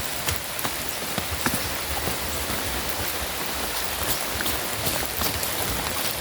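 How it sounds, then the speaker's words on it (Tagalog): Steady rain falls over a small Filipino vegetable farm planted with eggplant and pechay, a dense, even hiss with scattered nearer drops tapping throughout, no voices. "Maulan kasi ka-farmer."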